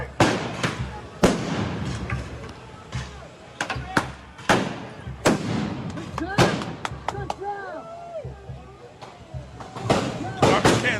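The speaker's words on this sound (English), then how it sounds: "They're throwing the flashbangs now over the barricade into the crowd." Flashbang stun grenades burst repeatedly at a street protest, sharp loud bangs at irregular intervals over about eleven seconds, amid crowd noise, whistles and shouting voices.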